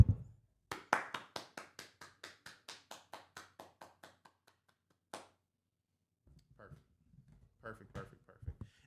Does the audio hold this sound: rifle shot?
no